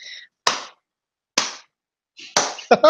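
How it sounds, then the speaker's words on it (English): Three loud, isolated hand claps spaced about a second apart make a deliberate slow clap, close to the microphone with silence between them, followed by a brief tail of other sound. "Slow clap"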